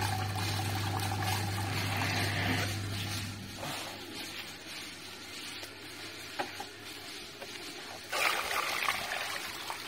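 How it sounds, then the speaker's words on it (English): Hot water poured out of a bucket while distilling alcohol with a reflux still, a steady close splashing trickle lasting throughout, with a low hum fading early and brief louder splashes near the end. "Just emptying all the hot water out of the bucket,"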